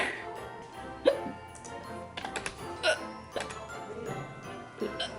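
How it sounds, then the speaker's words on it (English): Repeated hiccups from a woman with a sore back, sharp short spasms scattered through the clip at close range, with some voice and faint clicking in the background. "My back hurts and I can't stop hiccuping."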